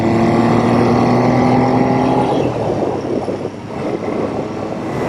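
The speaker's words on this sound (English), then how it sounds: "The sound this bike makes is amazing." A Triumph T160 Trident motorcycle's three-cylinder engine under way, a loud steady drone with a strong tonal hum that drops off and becomes rougher and quieter midway as the rider eases off.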